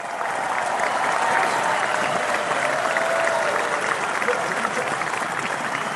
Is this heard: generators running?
no